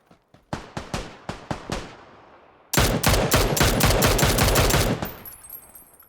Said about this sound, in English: Gonna connect a few shots.